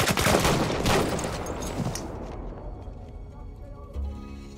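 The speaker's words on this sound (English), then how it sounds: "Enemy machine gun, over there!" Machine gun fire and battle noise in Battlefield 1 on PS4, a dense burst of loud gunfire in the first seconds fading into a rumbling, decaying combat din, with game voices mixed in.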